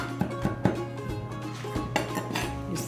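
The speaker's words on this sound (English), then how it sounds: "Use the back of my knife to kind of make a paste out of it." Kitchen knife blade pressing and scraping smashed garlic cloves into a paste on a board, a few soft taps and scrapes over a steady background hum.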